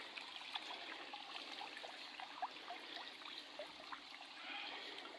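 Water trickles and gurgles faintly through the pipe of a hydraulic ram pump, a soft, continuous, uneven dribble with small splashy bursts and no voices.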